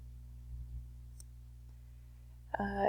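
A few sharp computer mouse clicks come close together near the end, loud against a quiet room background with faint hum.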